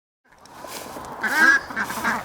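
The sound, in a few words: ducks quacking on a compost farm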